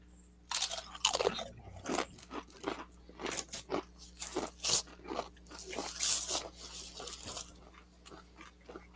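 Close, loud crunching and chewing of a Paqui One Chip Challenge tortilla chip, a steady run of sharp crisp bites and mouth crunches with no talking.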